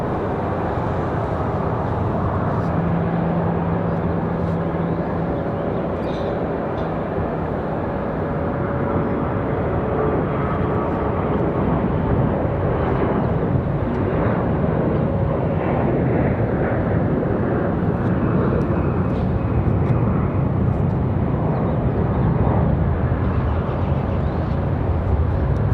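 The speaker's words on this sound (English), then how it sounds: "As we have the Delta CRJ departure." A Delta CRJ jet departing Raleigh-Durham airport makes a sustained broadband jet roar that stays loud and steady throughout, with a faint tonal whine underneath.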